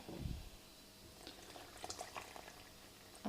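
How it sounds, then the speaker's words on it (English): Water pours into a flour mixture for homemade pizza dough, a soft, faint trickle and splash over a few seconds with light mixing noises and a brief bump at the end. "add the rest of your water."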